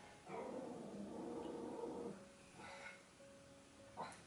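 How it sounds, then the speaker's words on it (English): A small dog barks and whimpers indoors, a faint string of yips and whines that is distant and quiet, with short pauses between bursts. "my dog is barking"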